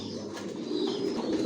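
Imported racer pigeons coo steadily at close range, a soft low continuous warbling with faint chirps and rustles in a loft.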